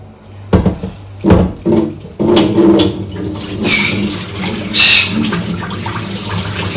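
Fish being rinsed under running water, with splashy bursts and gurgles as water pours and sloshes, then a steadier flow with hissing, close and fairly loud.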